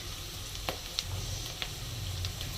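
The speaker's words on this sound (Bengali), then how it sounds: "আমি রাই জিরার ফোড়ন দেব" Mustard and cumin seeds sizzle steadily in hot oil for tempering, a close, continuous frying hiss with a few sharp crackles and pops.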